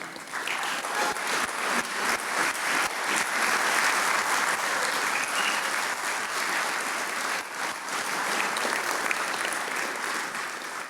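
Steady, dense applause from a large audience at a celebrity sports night banquet honoring a Nebraska sports figure, continuous clapping sustained for about eleven seconds with little talk.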